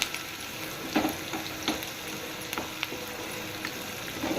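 Onions frying with salt in a pan for egg gravy, a steady sizzle with scraping stirs and clinks of the utensil against the pan, close and continuous with no talking.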